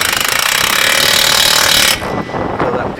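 Impact gun with a 22 mm socket running down a front strut bolt on a Toyota Camry: a loud, close, rapid hammering rattle for about two seconds, then it cuts off into quieter handling noise.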